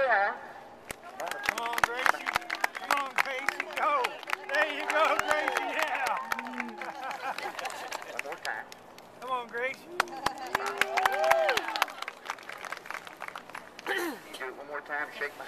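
A crowd at an equine show claps and cheers in scattered bursts for a performing mule, with lively overlapping voices and whoops through the middle and toward the end.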